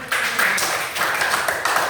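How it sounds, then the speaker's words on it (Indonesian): A short burst of hand clapping in a classroom setting, quick repeated claps blending into a steady patter for about two seconds, close and fairly loud, with no talk over it. "beri tepuk tangan"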